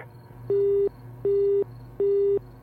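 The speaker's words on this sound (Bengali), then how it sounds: "তারপরেই ফোনটা কেটে যায়" Three evenly spaced beeps of a telephone busy tone, steady and clear, with a faint hum between them.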